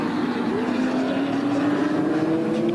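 Holden Commodore touring cars race down Conrod Straight at Bathurst, with a steady, loud engine drone rising slowly in pitch for just under three seconds.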